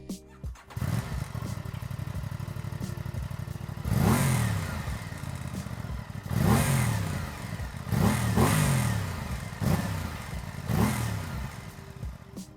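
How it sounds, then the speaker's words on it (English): An Aprilia RS660 parallel-twin sport motorcycle idles, then revs sharply about five times in a row, each throttle blip rising and falling, loud and close, with a V-twin-like exhaust note. "has a distinctive exhaust note that feels more like a V-twin than a traditional parallel twin"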